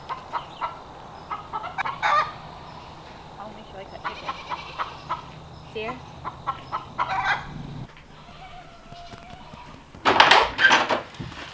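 Chickens in a backyard coop cluck and squawk close by in scattered bursts, with a louder flurry near the end, while someone talks over them.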